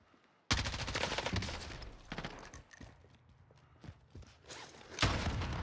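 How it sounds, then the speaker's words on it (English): M4A1 rifle fire in the Warzone video game, a sudden loud sustained automatic burst followed by scattered shots and action noise, then another loud volley near the end. "No recoil M4, I tell ya."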